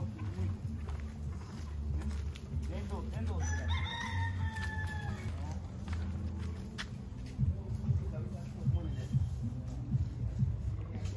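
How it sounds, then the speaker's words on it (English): Chickens clucking and a rooster crowing on Ocho Rios beach in Jamaica, the crow rising clearly mid-clip amid scattered clucks, with people talking nearby and beach background noise throughout. "Look at how many chicken here."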